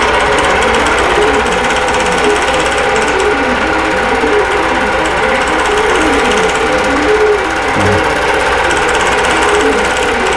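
A computerized longarm quilting machine is stitching a quilt block with Topaz thread. The needle runs in a steady, continuous rapid chatter at close range, loud and unbroken throughout, with no voices.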